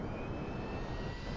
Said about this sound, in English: I'm gonna race in a plane.